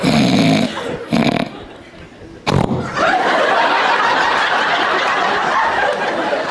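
A person imitates loud snoring, with rough, rasping snorts and drawn-out grating breaths, exaggerated and close, followed by a long sustained noisy exhale.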